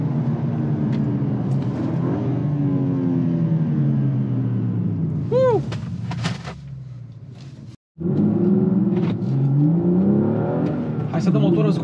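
A new BMW M2 with manual gearbox revs as it drives, the engine note rising and falling in steady waves with a short gap at a gear change, while someone talks over it.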